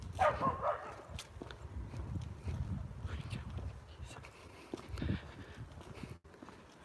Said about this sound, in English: before I got distracted by dogs barking.